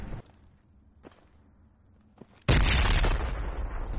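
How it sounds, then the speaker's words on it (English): A grenade goes off in the military shooter game Project Reality: quiet ambience with two sharp distant pops gives way to a sudden loud, sustained roaring blast that fills the rest of the moment. "nades going out all over the place"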